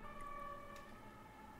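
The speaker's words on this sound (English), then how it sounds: "Ambulance outside just starts his sirens up right under my window." Ambulance siren starting up on the street right below a window, a faint wailing tone heard through the glass against low background noise, with no talking.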